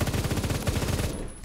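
MG3KWS light machine gun firing in Roblox Phantom Forces, a rapid continuous burst of loud, evenly spaced shots that cuts off near the end.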